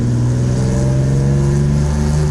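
A 1987 Chevrolet Opala Diplomata engine runs close by with a steady, deep, loud hum at a held speed, no talk over it.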